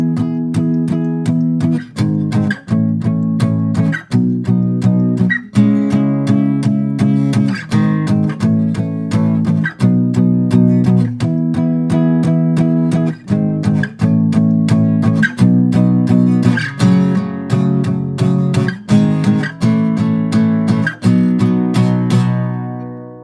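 An acoustic guitar strums a chord progression with a steady, rhythmic strumming pattern and regular chord changes, loud, close and unaccompanied, with no singing or speech.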